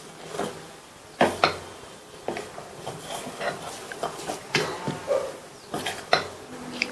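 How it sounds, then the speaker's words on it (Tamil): Beetroot dosa batter is mixed in a bowl with a spoon, giving irregular clinks and scrapes against the bowl in uneven bursts, fairly close and moderately quiet. "நல்லா மிக்ஸ் பண்ணி விட்டுறலாம்."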